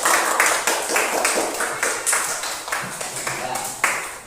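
A classroom group applauds for the first student group, with a light scatter of hands clapping in uneven bursts that swell and fade over a few seconds, close by and with some talk underneath.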